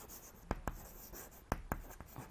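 Chalk or pen writing on a board during a class, heard as quiet scratchy strokes with a few sharp taps, close and faint against a soft room background.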